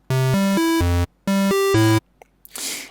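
Short harmonic synth notes with a waveform between saw and square, in two quick melodic bursts of four, bright and buzzy, separated by a pause, followed by a brief hiss of noise.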